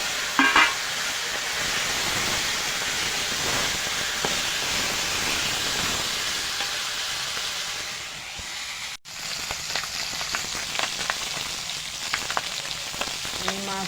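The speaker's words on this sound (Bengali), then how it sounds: "এবার মাছটা ভেজে নেব।" Magur catfish frying in hot oil in a kadai makes a continuous close sizzle and hiss with occasional utensil scrapes and clinks. A brief break comes midway, and then the frying resumes with crisper spatters. No one speaks.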